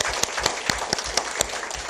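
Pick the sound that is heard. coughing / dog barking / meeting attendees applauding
meeting attendees applauding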